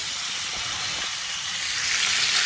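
Bengali spice tempering (phoron) for mocha chingri sizzles and fries steadily in hot oil, a dense continuous crackling hiss that swells slightly toward the end, close and alone without speech.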